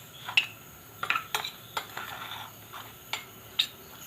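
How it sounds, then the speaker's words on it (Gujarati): A spoon stirs and mixes ingredients for amla chyawanprash in a metal pot, giving a series of light clinks and scrapes at an uneven rhythm, close and fairly soft. "અને ચમચી વડે બધું મિક્સ કરી લઈએ।"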